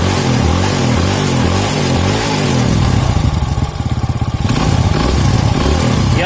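A Honda Grand motorcycle engine fitted with an FIM piston and Shogun valve springs revs loudly and continuously up close, with throttle blips and a dense rattling rumble throughout.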